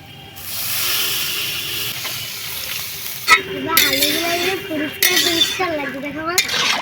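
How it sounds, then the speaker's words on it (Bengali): Water poured into a hot pan of curry seasoned with chilli powder and salt, a rising hiss and sizzle with steam, followed by clinks of a utensil and faint voices in the background. "এবারে জল দিয়ে দিচ্ছি"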